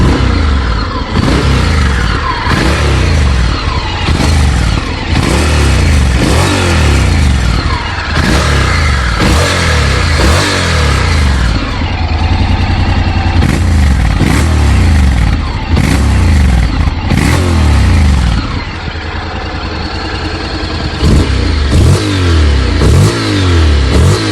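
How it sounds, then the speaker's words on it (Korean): A 2019 Honda X-ADV scooter with a DCT gearbox revs repeatedly, rising and falling in pitch with sputtering exhaust between bursts, loud and close throughout. "엔진 배기음을 한번 들어볼까요?"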